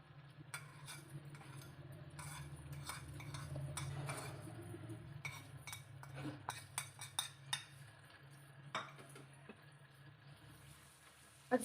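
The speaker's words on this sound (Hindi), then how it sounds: "और इसको अच्छे से मिक्स कर देंगे।" Spices being stirred into well-cooked tomatoes in a pan, with a spoon scraping and clinking against the metal in irregular taps and scrapes over a low steady sizzle, the clinks sharper toward the end.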